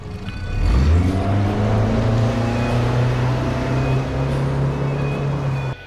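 A Mercury 75 outboard with 2.1-litre displacement starts up and settles into a steady, loud drone, pushing a Stabicraft 1550 Frontier aluminium boat along continuously with no talk.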